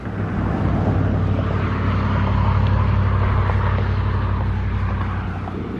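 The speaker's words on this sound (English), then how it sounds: "Lots of traffic on this road." Road traffic on a rural Midwestern highway near a graveyard, a loud, continuous low roar of passing vehicles that holds steady throughout, with no talking.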